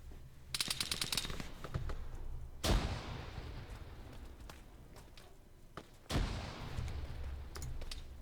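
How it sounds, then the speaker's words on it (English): Gunfire in the military shooter game Arma 3: a rapid burst of automatic shots, then heavy single blasts with rolling echoes and scattered distant shots. "Again, my guys are shooting each other."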